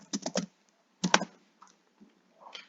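Bursts of quick clicky keystrokes on a computer keyboard, a fast cluster at the start, another after a pause, then a few scattered taps, close and clear over a quiet background.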